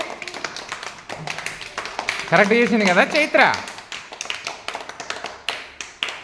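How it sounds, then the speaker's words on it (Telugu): Children in a classroom clap for a classmate named Chaitra in scattered, quick claps. A teacher talks before and during the applause, and a voice rises briefly in the middle. "చప్పట్లు కొట్టండి చైత్రకి"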